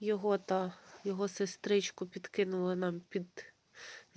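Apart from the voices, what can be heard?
None of the usual background noises is heard.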